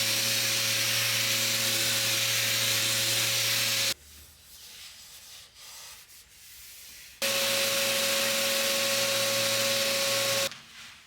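A sander fitted with sanding pads strips the finish off a curved 1980s thrift-store wooden coffee table, making a loud, steady abrasive hiss with a droning hum, in two long bursts separated by a quieter pause and ending in a short burst.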